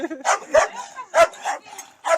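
A dog barks repeatedly at a house for sale in a small town, with short sharp barks coming in uneven bursts that mix with people talking nearby.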